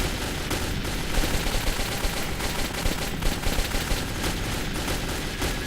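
Dense, continuous gunfire in the video game Metro 2033, rapid overlapping automatic shots forming a loud, unbroken barrage with no voices over it.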